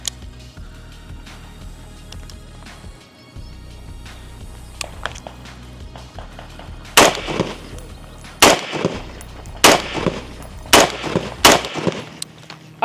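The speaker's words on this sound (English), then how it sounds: "let me show y'all how this thing shoots unsuppressed" A B&T 5.56 rifle fired unsuppressed on a range. Quiet handling and shuffling come first, then five loud, sharp gunshots ring out about a second apart, each with a short echoing tail.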